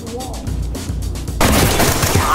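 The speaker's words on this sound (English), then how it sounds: "Shooting." Gunfire in the tactical shooter Ready Or Not, with a cluster of rapid shots early on, then a loud, dense burst of firing that fills the rest of the moment.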